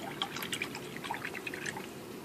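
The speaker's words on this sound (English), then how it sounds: "I'm going to rinse out my brush." A paint brush being rinsed in a container of water during a children's clay penguin painting lesson, giving continuous soft splashing and trickling for a couple of seconds, close by and steady, with no talking.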